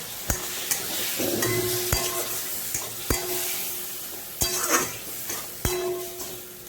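Spice paste being sautéed in a pan with a little water added, sizzling steadily while a spoon scrapes and stirs, with sharp clinks of metal against the pan at irregular intervals, close and with no talking.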